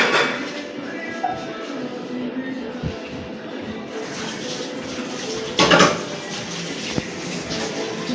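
Plates and dishes clink and clatter in a home kitchen as large plates are handed out and the table is set, with scattered knocks and one sharper burst of clatter amid quiet family chatter.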